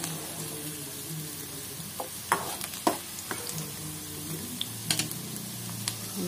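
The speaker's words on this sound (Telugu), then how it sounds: "ఆయిల్ హీట్ ఎక్కాక వెల్లుల్లిపాయలని కొంచెం బ్రౌన్ కలర్ వచ్చేంత వరకు వేయించుకోండి" Garlic fries in oil until brown with a soft, constant sizzle. Sharp, irregular clicks and taps of a utensil against the pan come through close by, and no one talks.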